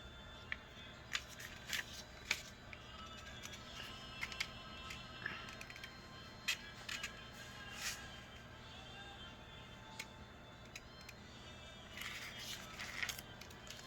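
A sheet of colored origami paper is folded into a square fold, producing soft crinkles, crisp rustles and small clicks scattered close up over a quiet, faintly humming room.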